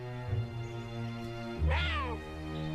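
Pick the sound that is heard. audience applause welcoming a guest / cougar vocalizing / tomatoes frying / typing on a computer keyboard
cougar vocalizing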